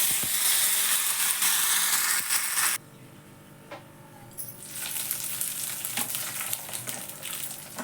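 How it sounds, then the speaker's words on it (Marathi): Mustard seeds, cumin and coriander crackle in hot oil while a chutney is tempered: a loud, bright sizzle that drops off abruptly partway through, then a softer frying hiss and crackle returns and continues. "तेल तापले मोहरी घालते बघा थोडंसं जिरं"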